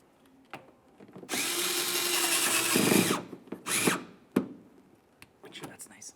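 Powered driver tightening a screw in the rear wheel well of a 2008-2017 Buick Enclave, one long whirring run that bogs down as the screw seats, then short bursts and clicks, close up, with someone talking quietly around it.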